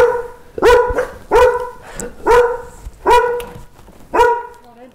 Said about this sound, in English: the doorbell's about to go off and the dogs are gonna bark